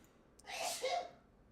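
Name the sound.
sneeze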